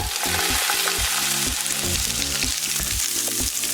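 Onions fry in hot oil in a pan for a lasagna, crackling with a loud, steady sizzle while a utensil stirs them in repeated rhythmic scrapes; no one speaks.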